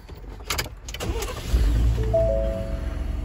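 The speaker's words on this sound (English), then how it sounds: "When I cut the vehicle on" A 2018 Ford F150 truck being switched on: a few short clicks and clunks, then a low engine rumble settling into a steady idle with faint whirring chimes on top, close and fairly loud, with no voices.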